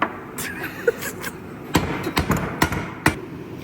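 Several sharp metallic knocks, irregular and close, from the back of an impact wrench used as a hammer, over a low background hum.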